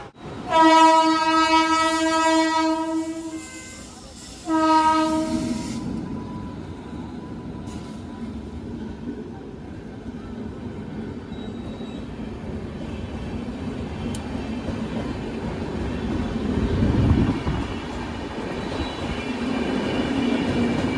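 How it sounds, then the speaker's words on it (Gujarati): A train horn sounds loudly twice, then a long, rumbling train rolls past nearby at a closed level crossing with clattering wheels and a low, continuous roar. "અહીંયા ટ્રેન આવે છે તો ફાટક બંધ છે"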